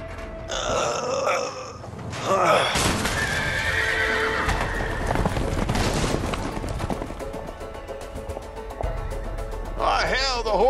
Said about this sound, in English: the horses are escaping